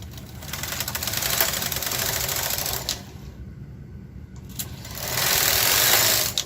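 A Brother KH 230 knitting machine carriage is pushed across a row, giving a fast, rattling mechanical clatter. It pauses briefly partway through, then resumes louder to finish the pass.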